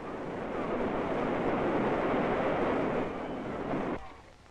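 Water gushes from an opened fire hydrant on a New York street in 1948, a steady broad rushing roar that holds for about four seconds and then drops away abruptly.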